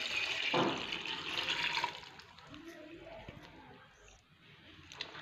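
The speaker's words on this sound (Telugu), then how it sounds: "వాటర్ పోస్తున్నానండి." Water splashes strongly for a moment as it is poured into a pot of gongura dal, then fades to a quiet trickle and soft background noise.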